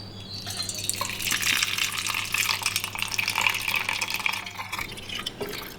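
Excess cooking water pours off a pot of boiled dal in a steady, close splashing trickle with scattered drips, running for several seconds beneath a faint low kitchen hum.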